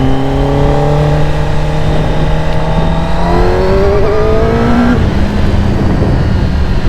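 A Kawasaki ZX-10R 1000 superbike engine with stock exhaust revs up in rising pitched sweeps, loud and close, then drops back to a rough idle.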